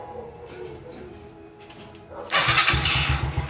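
A motorcycle push-start is tested while diagnosing a faulty starter relay. Quiet whirring gives way to the starter motor cranking, then the engine catches and idles loudly with a rapid, steady pulse.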